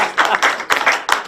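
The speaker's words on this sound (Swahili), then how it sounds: "makofi mazuri" Brief clapping from a congregation at a church gathering, a short, loud burst of a few hands with uneven, distinct claps close by, lasting just over a second.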